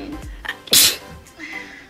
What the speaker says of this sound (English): whenever I'm about to sneeze, I whip my phone out and I record it